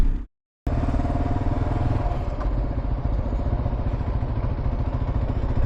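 A Kawasaki KLR motorcycle is ridden at steady speed, its engine a continuous loud thrum with wind and road clatter, briefly cut out at the start.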